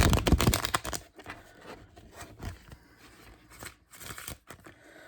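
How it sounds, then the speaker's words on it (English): A deck of playing cards is riffle shuffled up close, giving a quick, loud burst of fluttering card flaps, followed by softer handling rustles and a couple of further short flurries as the cards are squared. "so let's say they gave it a riffle shuffle like this"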